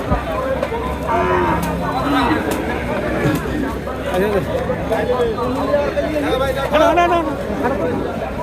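Cows and calves moo repeatedly at a busy Sonaichandi cattle market, several calls near and far rising over a constant crowd murmur and nearby talking.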